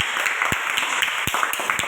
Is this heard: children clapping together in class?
yes